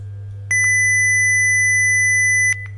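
An electronic buzzer on an ESP32 digital thermometer circuit sounds one steady, piercing beep lasting about two seconds over a low constant hum, then cuts off.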